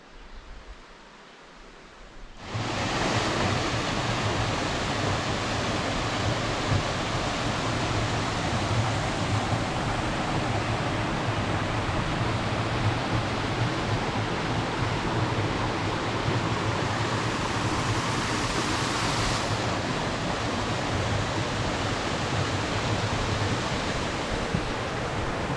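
After a brief quiet start, a steady, dense rush of a flowing mountain stream on a Mt Madison and Mt Adams hike fills the scene, constant and close without pauses.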